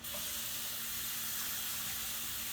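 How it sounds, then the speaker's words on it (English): Water pours steadily from a kitchen tap during handwashing, a continuous close rushing splash with no talk over it. "I'm going to wash my hands."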